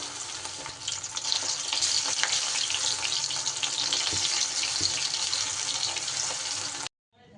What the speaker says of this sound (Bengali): একই রকমভাবে পরের ব্যাচেগুলো কিন্তু আমি এইভাবে দিয়ে ভেজে নেব।